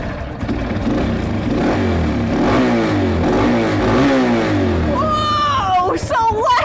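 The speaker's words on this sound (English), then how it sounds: "This is the throttle. When you turn this, this is what provides all the power to the engine because fuel goes into the engine." A dirt bike engine is revved with the throttle, loud close bursts of rising and falling engine roar, followed by an excited voice at the end.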